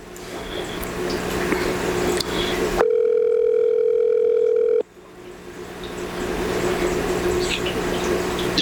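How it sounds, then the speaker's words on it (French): A telephone ringback tone sounds on a radio call-in line: a single steady electronic ring lasts about two seconds and then stops, with a hissy, noisy line heard before and after it. "Le téléphone sonne."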